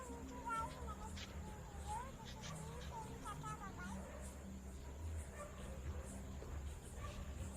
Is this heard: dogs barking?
yes